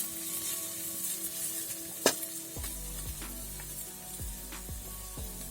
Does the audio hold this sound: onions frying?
yes